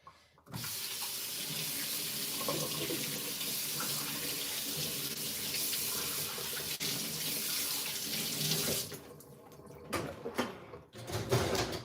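Hot water running from a tap into a sink, a steady close gush that starts abruptly, continues evenly, then cuts off near the end with a few handling clunks.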